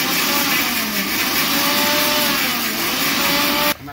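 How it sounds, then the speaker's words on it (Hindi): A small kitchen mixer grinder whirs steadily as it grinds cashews with a little water, loud and close, running continuously before cutting off near the end. "इसको भी हमने छोटा मिक्सर में डाल दिया है, थोड़ा सा पानी डाल देंगे ताकि ये मिक्सर में घूमे"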